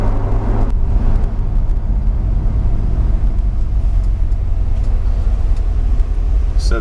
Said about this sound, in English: So this little RX-7 here, he's got a V8. It sounds good.